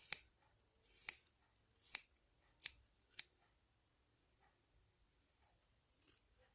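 Scissors snipping through extra hair during a haircut, five close, crisp snips in an uneven rhythm in an otherwise quiet room, then a faint sixth sound near the end.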